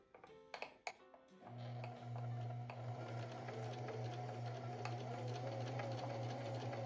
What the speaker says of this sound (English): I'm just going to sew this with a straight stitch.